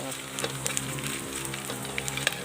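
Oil sizzles steadily in a pan while frying for a northern Thai chili dip, a continuous close crackle with occasional sharper pops and no talking.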